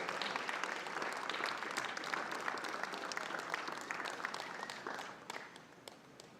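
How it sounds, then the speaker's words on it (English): A cricket stadium crowd applauds a former player at a live event, a broad sustained wash of clapping heard at a distance that slowly thins and fades toward the end. "Please give another round of applause for Mr. Vishwanath"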